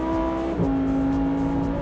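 A Lamborghini Huracán Tecnica's naturally aspirated V10 wails steadily at high revs, its high-pitched tone dipping briefly and then climbing again, loud and sustained.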